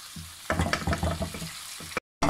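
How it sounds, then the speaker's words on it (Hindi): A spoon stirs sweet teriyaki sauce with toasted sesame seeds in a pan, giving a run of close scraping, sizzling strokes before the sound cuts out briefly. "इसको एक दफ़ा हम अच्छे से मिक्स कर लेंगे।"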